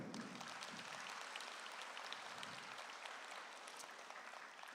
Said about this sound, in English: So for those of you who knew Giovanna, maybe a round of applause